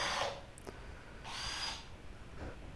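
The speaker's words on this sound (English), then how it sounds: "nobody can drill through a tile that fast." A power drill whines in short bursts, grinding through hard porcelain tile with pauses between each run; no one speaks.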